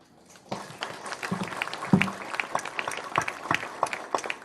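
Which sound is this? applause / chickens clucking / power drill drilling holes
applause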